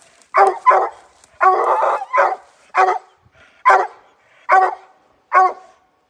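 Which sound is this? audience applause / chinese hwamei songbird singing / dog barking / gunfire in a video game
dog barking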